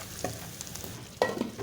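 Mustard greens with a tempering of salt and chilli stirred in a pan, giving soft scraping stirs and a faint sizzle, with a sharper clatter near the end, heard alone.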